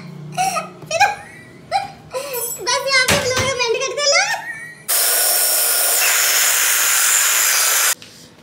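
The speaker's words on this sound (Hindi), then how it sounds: "इसको अच्छी तरह हम लोग करेंगे ब्लेंड के ग्राइंड" Blender grinding a chicken patty mixture with chicken powder, a steady loud whirring roar for about three seconds that starts and stops abruptly, following a stretch of talk.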